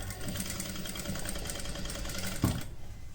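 A sewing machine runs steadily as it stitches royal blue lehenga saree fabric, a continuous close mechanical whir that stops abruptly near the end with a brief thump.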